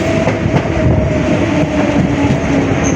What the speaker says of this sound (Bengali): মোটর কোচে উঠে গেছি যেহেতু আওয়াজটা কেমন আসছে আমাকে একটু জানাবেন